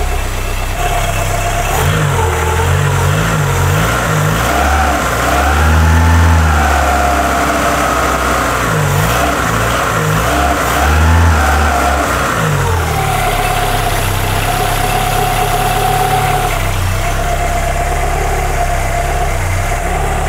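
A car engine with a faulty crankcase breather that blows air idles loudly and steadily, with a few slow revs rising and falling partway through, and no one talking.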